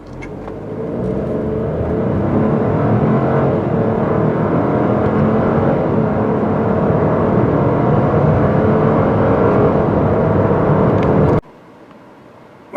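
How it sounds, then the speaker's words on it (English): A 2021 Chevrolet Trailblazer accelerates hard in a 0 to 60 run, its engine droning steadily and loudly for about eleven seconds before cutting off abruptly. "Shall we do a 0 to 60 run?"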